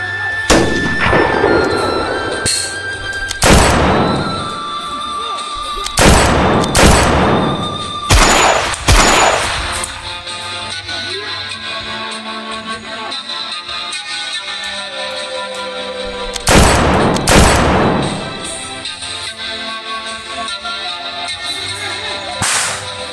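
Loud, sharp video game gunshots crack in irregular bursts, some in quick clusters of two or three, separated by stretches of lower background noise.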